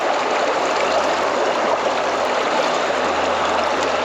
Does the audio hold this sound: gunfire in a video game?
no